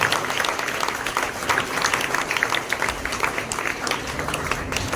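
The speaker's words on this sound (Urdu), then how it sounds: "بھرپور تالیوں کے ساتھ ان کا شکریہ ادا کرتے ہیں" A church congregation at a Coronation of Our Lady Mother Mary service applauds the priest and helpers, brisk sustained clapping filling the room at an even level throughout.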